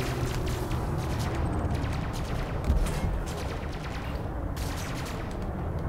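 Spaceship weapons firing in the Elite Dangerous: Horizons video game, a dense, continuous rattle of rapid shots over a steady rumble, with one louder burst midway and no pauses.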